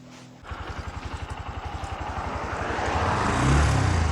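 A motor vehicle engine idles with a steady, throbbing pulse that slowly builds in loudness over a few seconds before it is put in gear, close and alone with no talking.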